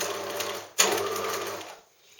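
A Bernina domestic sewing machine stitches steadily up close, its motor whirring and needle rattling, with a brief pause before the run resumes and then stops.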